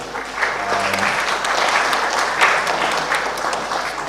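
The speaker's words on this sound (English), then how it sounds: "Round of applause for all the panelists." A conference audience gives steady, full applause to the panelists closing a session at the BIMSTEC Start Up Forum, a dense continuous wash of many hands with no voices over it.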